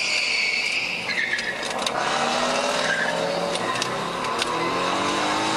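Noisy cars rev and skid through downtown streets at night, with loud engines and brief tire squeals over a constant traffic roar.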